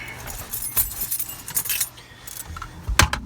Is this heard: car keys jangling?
yes